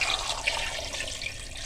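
Water pours into a pot of beef paya in a steady, close splashing stream lasting under two seconds, with no talking.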